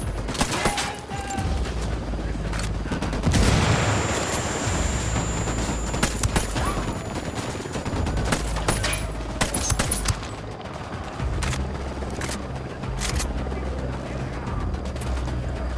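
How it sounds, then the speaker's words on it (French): Gunfire in the video game Ghost Recon Wildlands: loud, dense bursts of shots and explosive cracks run steadily through a busy game soundscape, with a brief voice near the start. "Je vais tirer."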